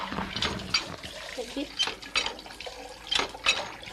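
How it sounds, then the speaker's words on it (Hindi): Dirty municipal supply water falls from a tap into a container with splashing and clinking, and people talk over it. "देखिए ये सप्लाई का पानी जो है, अभी गंदा जो आप गिर रहा देखिए है। कितना गंदा गिर रहा है।"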